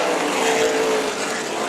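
Super late model race cars at Tucson Speedway during the Chilly Willy 150 main event give a loud, sustained engine roar that holds steady with a slight pitch sweep as they pass.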